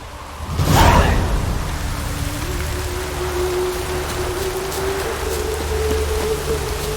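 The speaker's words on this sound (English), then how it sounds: "Rain again." Steady rain falling in The Witcher 3: Wild Hunt, a continuous hiss of drops on surfaces that swells after a brief whoosh near the start and then holds evenly, with a low ambient tone running underneath.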